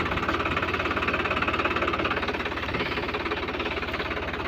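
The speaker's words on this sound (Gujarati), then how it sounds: "આપણે ટ્રેક્ટરનો ઓટો મારીએ" A diesel tractor engine chugs steadily at idle, a loud, rhythmic knocking throb that holds even throughout with no voices.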